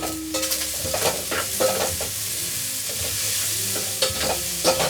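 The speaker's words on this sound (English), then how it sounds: "And then I stir it up again." Liver and chopped garlic frying in a pan over low heat, stirred with a utensil, giving a steady soft sizzle broken by several scraping strokes, close and moderately loud with no talking.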